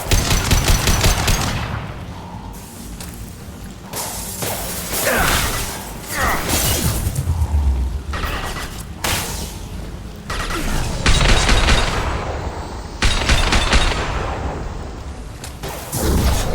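Weapons fire in the video game Mass Effect 2 Legendary Edition comes in loud, repeated bursts of rapid shots separated by brief pauses, with sharp impacts and shattering debris throughout.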